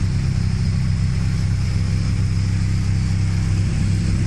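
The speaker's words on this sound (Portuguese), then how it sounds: "tinha um carro barulhento aqui do lado" A noisy car idles close by, its engine a steady, loud low rumble that carries on without a break and with no voices.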